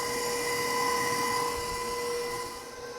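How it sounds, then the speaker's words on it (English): Cream being whisked for homemade butter makes a steady, continuous whirring drone with faint tonal hum, holding close and even throughout before easing slightly at the end. "And we're going to continue whisking away. And we're going to make our butter."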